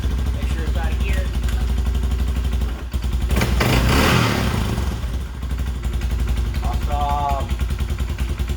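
A Honda TRX200SX ATV engine runs at a steady, close putter, swelling louder for a moment mid-way before settling back, with people talking over it.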